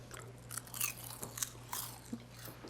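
Close, crisp crunching of baked kale chips being bitten and chewed, several quick crackly bites in a row, fairly quiet with no talking.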